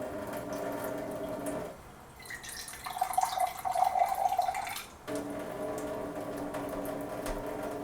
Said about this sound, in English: turn the water flow on by pushing down the water flow control lever.